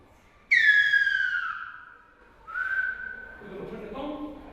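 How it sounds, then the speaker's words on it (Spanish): An 11-year-old whistles in Silbo Gomero, the whistled language of La Gomera, using a finger in the mouth: two long, loud gliding tones, then a lower wavering phrase, clear and close. "Utilizo el silbo para llamar a un compañero de mi casa a su casa."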